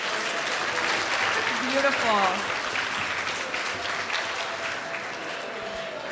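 Audience applause at an arts benefit brunch and auction, a steady dense wash of clapping throughout with a brief spoken word partway through.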